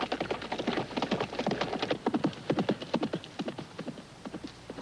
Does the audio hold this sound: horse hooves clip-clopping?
yes